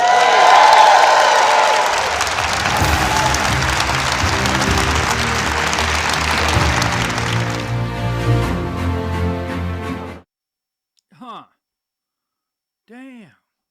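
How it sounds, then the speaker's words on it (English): A crowd at a political rally cheers and applauds loudly for several seconds, dense clapping and shouting that drops off abruptly, followed by two brief whoops in the quiet. "So let me hear you cheer for that."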